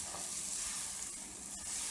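Bananas and brown sugar frying in a worn nonstick pan, a steady close hiss of sizzling with light stirring, no voices.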